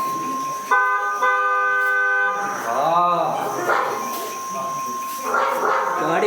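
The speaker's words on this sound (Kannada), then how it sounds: "ಗಾಡಿ ಹಾರ್ನ್ ಬೇರೆ ಆತುಂಟು" A vehicle horn blares in a steady held tone for a couple of seconds in a rural village setting. Voices talk and a dog barks nearby, and a warbling tone and a background hum carry on afterward.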